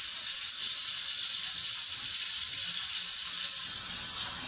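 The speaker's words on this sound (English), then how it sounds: "Let the water run here a little bit, get warm." Water runs steadily from a kitchen tap while warming up for bread making, a constant bright hissing stream that holds loud and even throughout with no talking.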